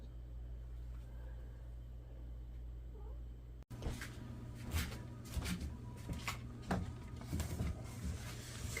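Pet cats meowing near their food bowls indoors, a few faint, moderately distant meows over a steady low household hum that grows busier partway through.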